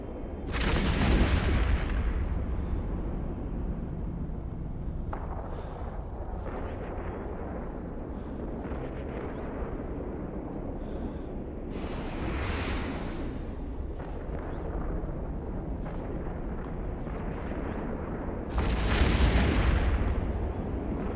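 An EMP weapon fires in a space video game, with heavy explosive bursts at the start, middle and end over a continuous loud rumbling roar, each blast rising sharply before settling back into the drone.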